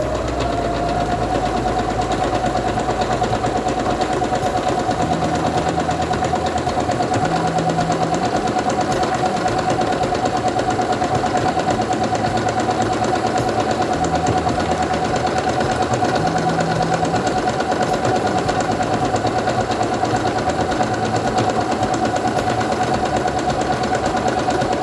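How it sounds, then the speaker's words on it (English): A Quantum Stylist 9960 sewing machine stitches fabric with a steady, close motor hum and low rhythmic pulsing that runs the whole time, with no talking. "I'm going to take my fabric and put it under the presser foot, lower it, and begin sewing."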